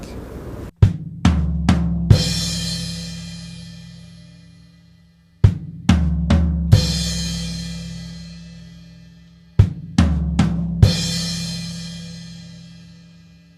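Three repeated phrases of deep floor tom hits on a drum kit, a quick run of four strikes each time, ringing out and decaying into silence between phrases.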